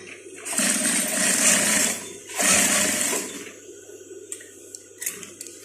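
Sewing machine stitching the zipper placket of a pair of shorts, running in two loud sustained bursts of about two seconds each, followed by quieter clicks and handling noises.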